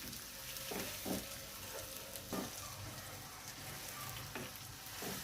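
Masala spices frying in a pan for a Lahori-style fish curry, giving a soft continuous sizzle with occasional stirring scrapes and clinks, fairly quiet and close with no voices.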